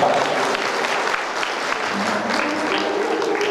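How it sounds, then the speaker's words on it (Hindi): An audience at a Bhagavat recitation gathering in a wedding hall applauds loudly, a thick burst of clapping that holds for a few seconds, with faint crowd murmur beneath. "एक बार जोरदार ताली बजाकर"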